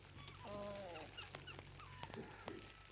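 Several chickens cluck and call in short, uneven bursts, fairly close, with a steady low hum underneath.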